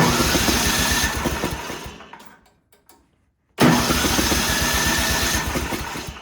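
An old snowblower engine left in a barn is started, running loud and rough, then cutting out abruptly into about a second of near silence before catching again and running steadily.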